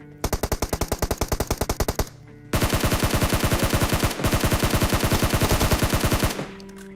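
A Scar-L rifle fires in the PUBG video game in rapid full-auto bursts, one short burst, a brief pause, then a longer sustained string of loud, evenly spaced shots before stopping.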